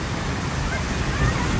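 Water pours down a small hillside waterfall on Mumbra hill, a steady broadband rush close by, with no talk heard over it.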